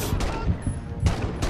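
Gunfire in the VR shooter Medal of Honor VR, a few dull, close shots and bursts over a busy game soundscape, with a brief voice in the mix.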